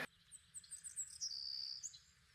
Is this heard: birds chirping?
yes